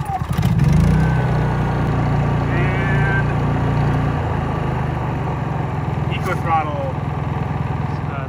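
A cold Honda portable generator is pull-started by hand, with a short cranking burst before the engine settles into a steady running drone, while a person talks throughout.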